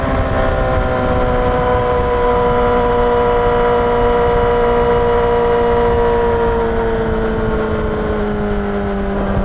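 A Honda CBR1000RR SP1 sportbike accelerates hard, its engine note rising in a loud, continuous whine as the rider shifts from second to fourth gear, with steady wind rush throughout and no talk.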